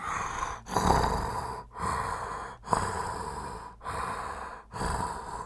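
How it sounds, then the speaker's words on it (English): Slow, heavy breaths drawn through a firefighter's breathing apparatus mask, each inhale and exhale hissing and rasping close up, repeating in a steady rhythm about five times. "all you can hear is your own breathing through the BA set"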